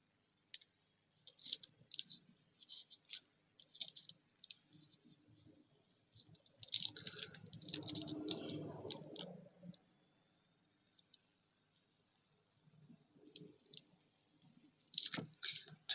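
Pen scratching out a to-do list and date on paper while decorating a scrapbook page, soft close-up clicks and strokes in short bursts, with a louder rustling handling spell midway and quiet pauses between.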